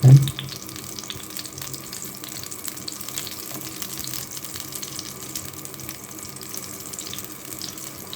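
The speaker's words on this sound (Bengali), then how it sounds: "তেল কিন্তু গরম হয়ে গেছে এবার বেগুনগুলো দিয়ে দেই" Eggplant slices hit hot oil with a brief loud splash, then fry in a steady, even sizzle that runs close and continuous for several seconds, with nobody talking.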